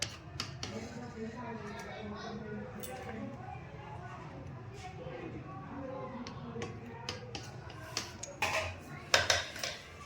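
Plain white rice being served onto a plate at a home meal, with scattered clinks and scrapes of dishes and utensils that grow sharper toward the end, beneath ongoing conversation.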